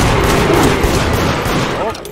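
In a video game, a bomb trap goes off with a loud, dense blast and crackling debris that fill the whole short moment up close.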